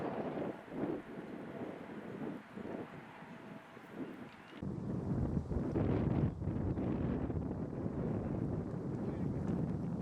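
A strong headwind gusts across an outdoor disc golf course, buffeting the microphone with a rough, rumbling roar that grows louder and heavier about halfway through.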